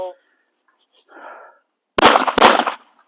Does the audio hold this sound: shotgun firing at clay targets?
yes